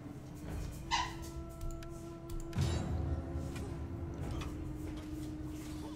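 A dog lets out a couple of faint, short barks and yips, one early and one a little later, over a quiet background hum.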